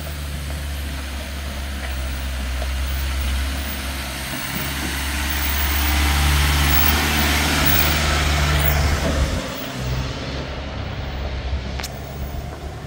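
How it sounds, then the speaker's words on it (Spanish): A Mitsubishi L200 4x4 pickup on road tyres labours up a rough, steep rural road, its engine droning loud and steady with low rumble that swells mid-climb and then eases, heard close with little talk. "Vamos a ver qué tal, cómo sube este Mitsubishi."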